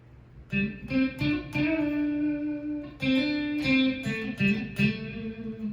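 Electric guitar played clean with the neck pickup coil-split, a run of distinct plucked notes and chords ringing out with a bright, sustained tone, loud and alone.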